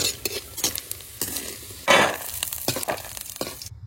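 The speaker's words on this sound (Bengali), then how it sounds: "তেলের উপর সামান্য গোটা জিরে দিয়ে দেবো" Whole cumin seeds hit hot oil in a pan after peanuts were fried, producing a soft crackling sizzle broken by stirring scrapes and clinks of a spoon, close and moderately loud, ending abruptly.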